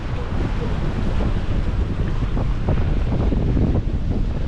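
Cool wind blows steadily across the microphone outdoors on the Red Bridge in Samut Sakhon, a loud continuous rumbling roar with no breaks.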